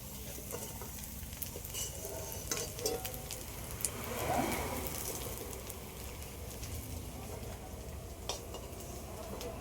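Banana flower fritters fry in oil with a soft, continuous sizzle, punctuated by light clinks and stirring scrapes, fairly quiet and close with no talking.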